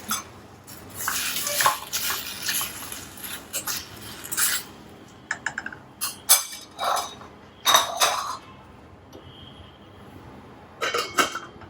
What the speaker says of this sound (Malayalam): ഒരു 1/2 കപ്പ് വെള്ളം ഒഴിക്കാം.